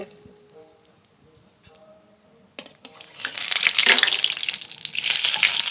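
Nigella seeds dropped into hot mustard oil for a Bengali chorchori, starting quiet and then breaking into a loud, bright sizzle and crackle that holds steady to the end.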